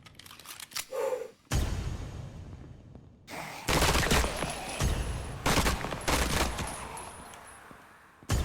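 Bursts of rapid automatic gunfire in a video game, a fast-firing weapon rattling off loud sustained volleys separated by brief pauses, with no talking.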